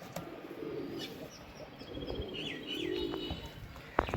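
Desi golla pigeons cooing softly in repeated low rolling phrases, with a few faint chirps nearby in a quiet setting.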